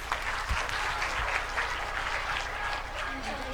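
Parents clap for students at a certificate and award ceremony, a steady, dense round of applause filling the room for several seconds, with a voice faintly audible underneath.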